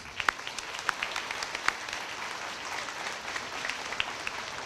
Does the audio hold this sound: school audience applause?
yes